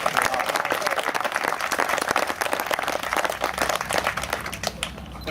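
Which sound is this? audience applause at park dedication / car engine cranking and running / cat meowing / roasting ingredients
audience applause at park dedication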